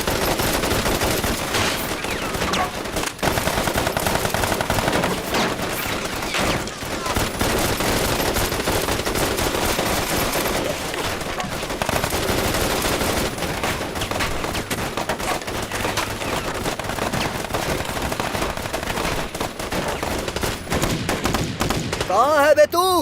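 Sustained machine gun fire in a Hindi-dubbed Hollywood action movie, loud, dense and continuous bursts running nearly the whole stretch with heavy impacts, and a voice briefly heard among the shooting.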